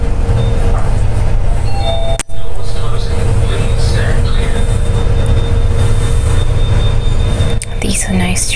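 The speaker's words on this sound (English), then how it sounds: "These are nice trains, like the new ones." Steady loud rumble of a new passenger train rolling along the tracks near Oxley station, with a sharp thump partway through and faint voices under the constant roar.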